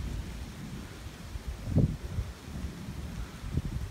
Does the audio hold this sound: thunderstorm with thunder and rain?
yes